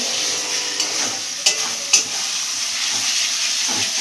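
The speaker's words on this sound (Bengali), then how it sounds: "এটাকে তেলের মধ্যে নাড়াচাড়া করে নিই, তারপর এই মাংসটাকে এর মধ্যে দিয়ে দেবো।" Steady sizzle of frying in oil, with a few scraping stirs over a loud continuous hiss, heard close up with no talking.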